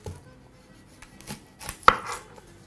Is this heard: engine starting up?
no